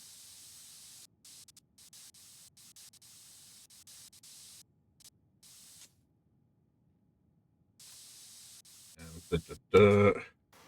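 Compressed air sprays inside a PC case in PC Building Simulator 2, giving steady hissy bursts that start and stop for several seconds. A voice speaks briefly near the end.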